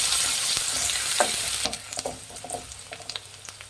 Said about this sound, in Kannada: ಒಂದು ಗರಿ ಕರಿಬೇವು ಹಾಕೊಳ್ಳೋಣ ಒಂದೆರಡು ಈರುಳ್ಳಿ ಚೆನ್ನಾಗಿ ಹಚ್ಚಿರೋ ಅಂಥದ್ದು ಈರುಳ್ಳಿ ಫ್ರೈ ಮಾಡಿ